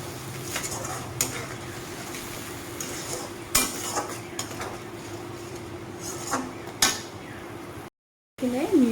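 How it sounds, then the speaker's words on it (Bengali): Spice paste with Kashmiri chili powder fries and is stirred in a pan for a vegetarian dish, a steady sizzle under repeated scrapes and clinks of a spoon against the pot, close, with a brief silent gap near the end. "মশলাটাকে ভালোভাবে কষিয়ে নেবে"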